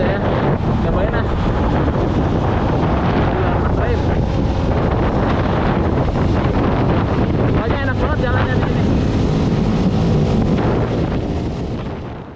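Old motorbike ridden flat out toward a government center in Tangerang, buried under loud, continuous wind buffeting on the microphone with engine and road roar beneath, steady and close throughout.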